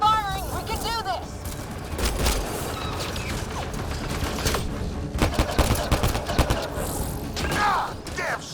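Rapid, dense gunfire from a Mass Effect: Andromeda firefight, with overlapping bursts, heavy thuds and mechanical clatter running the whole time, mixed with shouting game voices.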